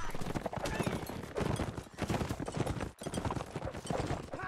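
Busy clatter of many horses' hooves in a chaotic video game battle on a hill, with intermittent clashing and a commentator's voice talking over the din.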